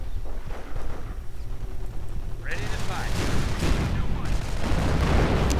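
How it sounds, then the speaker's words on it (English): An artillery barrage from two StuG 42 assault guns in a World War II strategy game, a rolling series of booms and blasts that grows denser and louder midway, under steady commentary. "bit of an artillery barrage right there from the dual Stu-42s"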